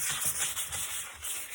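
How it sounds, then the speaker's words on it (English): Soft, continuous rubbing and scratching of sandpaper on wood, with gentle long strokes at a steady, close, quiet level. "So finishing up the sanding here. Long strokes now."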